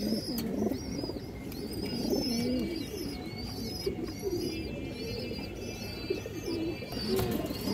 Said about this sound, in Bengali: বড় সাইজের একটা খাকি মাদি কবুতর।